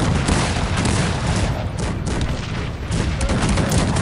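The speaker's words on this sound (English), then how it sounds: "Now it's more like a cannons duel" Massed cannon fire in the real-time strategy game Cossacks 3, dense overlapping booms and blasts rolling continuously in a loud, heavy barrage without pause.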